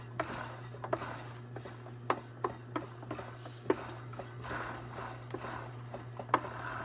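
A blade thins the edges of leather for a Bible binding, making quiet, close scraping strokes with small clicks at an irregular pace over a low steady hum.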